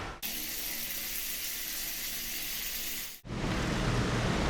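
Water pours steadily from a shower head in a campsite shower stall used by camper van travelers, a dense close hiss that cuts off briefly, then resumes louder and rougher.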